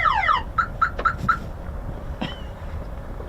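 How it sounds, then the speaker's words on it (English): A car alarm chirps in a quick series of sharp electronic tones, moderately loud, followed by fainter scattered background noise. "Oh, hey, a delayed alarm there."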